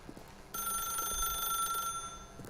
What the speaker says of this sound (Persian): بسته دیگه، قطعش کن تلفنو.